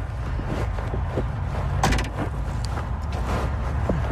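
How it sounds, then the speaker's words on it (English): Metal-on-metal clanging heard as a few sharp, ringing metallic knocks and scrapes, one louder clang near the middle, over a steady low rumble of traffic. "I hear metal on metal clanging."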